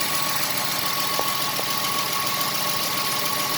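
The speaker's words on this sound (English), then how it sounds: "Oh, wait, there goes the fans." Electric cooling fans on a Jaguar XJS V12 with an aftermarket PWM-controlled fan conversion run in a steady, loud broadband whir over the engine's idle, with no break in the noise.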